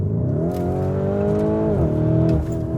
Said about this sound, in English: You guys have to keep it in Corsa mode because it opens up the exhaust valves and it makes it do this